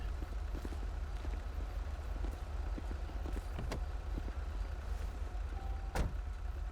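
Police Dodge Charger idling in the GTA V game, a steady low engine rumble running throughout with a few sharp clicks and knocks on top, no talk.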